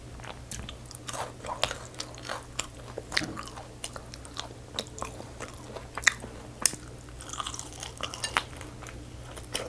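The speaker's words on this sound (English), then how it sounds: "This chicken wing is so crunchy." Crunchy spicy chicken wing in Samyang sauce being bitten and chewed close up, repeated sharp crunches and smacking bites at an irregular pace, with faint clinks of dishes and cutlery in between.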